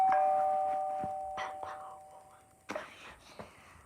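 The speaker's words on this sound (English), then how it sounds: "So the next one is doorbell." An iPhone doorbell ringtone plays at close range: a steady sustained tone with several bright chime-like strikes, one sharper and louder near the end, with faint breathy whispering in the background.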